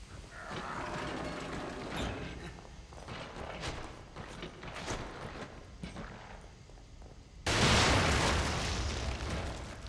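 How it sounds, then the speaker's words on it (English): Grenades explode against an enemy in The Evil Within, a run of heavy thuds and clattering impacts that ends in a sudden loud, roaring blast, with little or no talk. "God, those grenades are awesome against this thing"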